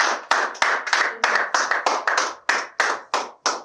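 A church congregation claps in a steady rhythm during worship, about two claps per second, crisp and close, with no voices standing out.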